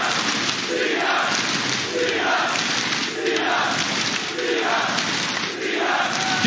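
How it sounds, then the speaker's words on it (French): Crowd cheering for a player at an LFL Summer Split esports match, a loud, sustained roar that swells rhythmically in waves, like chanting, with no gaps. "Tu es acclamé par la foule."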